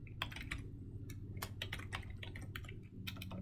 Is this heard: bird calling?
no